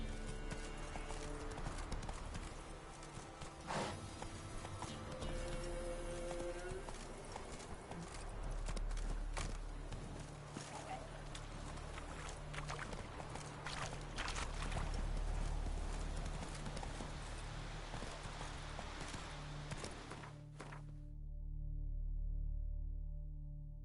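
Steady rhythmic clip-clop of a horse galloping in The Witcher 3, with continuous game ambience and music behind the hooves until the sound cuts off near the end.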